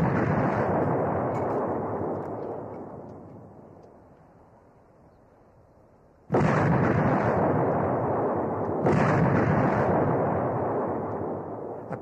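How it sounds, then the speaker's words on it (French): An artillery piece fires in the 1942 Bir Hakeim battle setting, with sharp, loud departure blasts whose rumble fades slowly, followed a few seconds later by two more close reports. "ce bruit de départ, c'est un claquement comme une bouteille de champagne"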